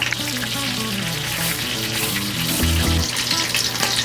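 Oil sizzles and crackles loudly and continuously as giant king black tiger shrimp deep-fry, with frequent sharp pops bursting through as water escapes the shrimp, close by.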